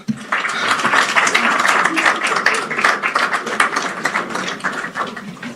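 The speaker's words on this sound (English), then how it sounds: "One more round of applause." An audience applauds at a global health and development governance conference in Accra, a dense, continuous wash of many hands clapping at steady volume throughout.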